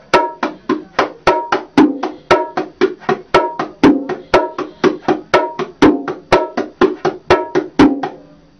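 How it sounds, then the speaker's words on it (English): Bongos play a steady, even stream of crisp hand strikes in a martillo pattern, about three per second, with a repeating accent pattern. No voices. "this is some martillo pattern for the bongos"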